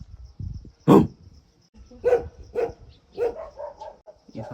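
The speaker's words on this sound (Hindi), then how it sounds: "ओए वो खुला हुआ है कुत्ता" A loose dog in a Nepali village along a jungle trekking route barks several times, with one sharp bark followed by a string of shorter, fainter barks and yips at moderate distance.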